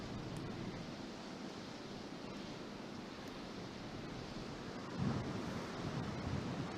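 Strong gusty wind sweeps across a golf course during a tournament round, a steady, broad rushing roar buffeting the microphone with a slightly stronger gust swelling near the end.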